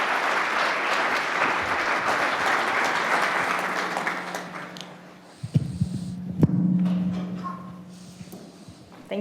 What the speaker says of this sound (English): please give the panelists and Macy and Sarah a big round of applause to welcome them.